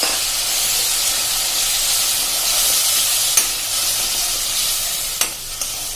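Two grated, skinned tomatoes go into a hot pan over a medium gas flame for a potato and pea curry, setting off a steady, close sizzle and hiss with a few sharp crackles near the end.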